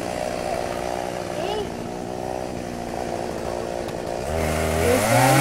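A chainsaw runs steadily during a backyard tree removal, a constant buzzing drone that swells louder and rises in pitch near the end as it bites in, with a person talking over it.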